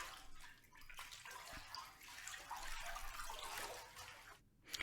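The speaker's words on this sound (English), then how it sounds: "I've also recorded some splashes by just filling up the bath a little bit and just swishing my arm around it" An arm swishes through shallow water in a partly filled bathtub, giving continuous soft splashing and sloshing in a reflective bathroom, fairly faint and close, with no voices.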